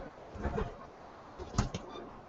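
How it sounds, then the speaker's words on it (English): A pigeon gives a few soft, low coos nearby, faint and muffled, with some light rustling between them. "I have a bird on me."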